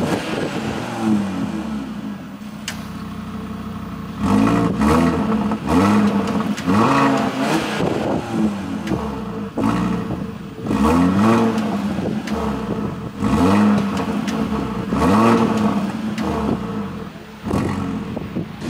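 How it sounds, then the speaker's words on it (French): Audi RSQ3 five-cylinder engine revving in RS sport mode with exhaust valves open, giving repeated loud short throttle blips that rise and fall in pitch, close by and with no talk. "Et des petits coups de gaz en RS mode, le mode sport."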